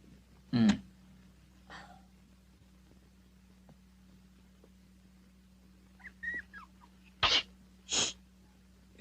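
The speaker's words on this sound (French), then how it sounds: "il m'a semblé entendre un éternuement" A single sharp sneeze bursts out early in an otherwise quiet room, followed later by a few faint rustles and short breathy snorts.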